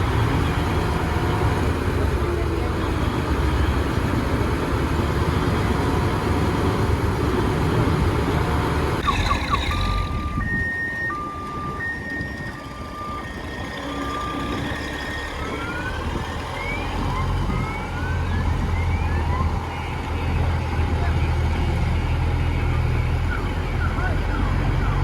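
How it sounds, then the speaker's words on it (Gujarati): A trailer hauling a fishing boat across land in Porbandar gives a loud, continuous heavy engine rumble, with a series of repeated beeping tones partway through and voices in the background. "તેલડિયું પણ હવે વયું જાય બોટને લઈને"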